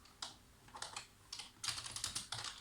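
Typing code on a computer keyboard: a series of close key clatters in short bursts, speeding into a denser run near the end, alone without speech.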